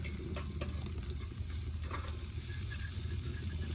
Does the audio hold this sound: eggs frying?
yes